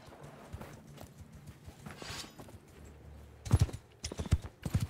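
Horse hooves in the video game Mount & Blade II: Bannerlord, soft clip-clop at first building to louder, heavier galloping thuds toward the end, no speech.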